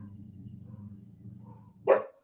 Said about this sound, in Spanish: no te hagas problema por los perros, no molestan tanto